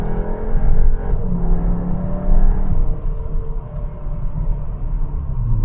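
A Cupra Leon in sport mode pulls hard while accelerating, its engine note boosted by the sound system, heard as a steady rising drone and road rumble from inside the car, loud and continuous.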